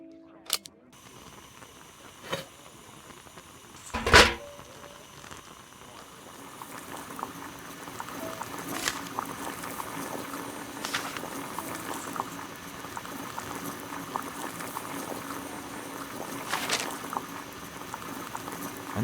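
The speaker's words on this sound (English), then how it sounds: "Boil water in kettle." Water boiling in a kettle on a gas burner in Sherlock Holmes: The Devil's Daughter, a soft bubbling and rumbling roil that builds after a few sharp clicks and a brief rising tone, steady and close.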